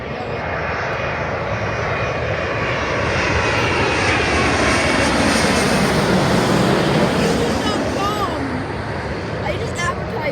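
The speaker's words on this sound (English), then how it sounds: "There's another plane landing." A jet airliner landing at LAX roars loud and steady overhead, a dense broadband rumble that swells slightly toward the middle and holds throughout.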